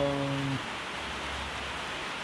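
Steady rain falls outside a farm workshop where seed drill parts are being changed, an even wash of hiss throughout, with a brief tonal hum at the start that quickly drops away.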